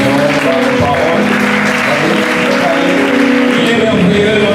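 A church congregation bursts into loud, sustained applause mixed with shouted acclamations and voices, a dense, steady roar close by that carries on for the whole stretch.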